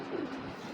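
A racing pigeon coos once, a short, low, throaty sound close at hand with no other sounds.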